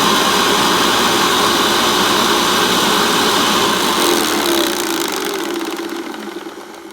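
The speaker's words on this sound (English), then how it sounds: "let's just carry on finishing vacuuming this area here." A Hoover Commercial C1310 vacuum cleaner running indoors, a loud steady motor whine and airflow roar held close, then tapering and fading toward the end, with no speech.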